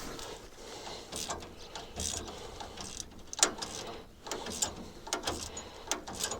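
A new bolt being tightened on hay-making equipment, giving repeated ratcheting, clicking metal turns at close range with short pauses between strokes.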